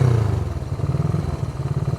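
A Honda CB360 motorcycle engine, running on only one cylinder, idles steadily up close, a low rumbling putter with a regular throbbing pulse throughout.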